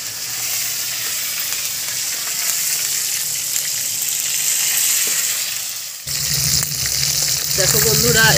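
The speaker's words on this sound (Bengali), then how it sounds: "এই মাছগুলো খুব ভালো করে ভাজা হয়ে গেছে" Bhetki fish fry in hot oil with a continuous close sizzle. Partway through there is a sharp shift as the pan is stirred or the fish shifted, and the crackle grows louder and rougher toward the end.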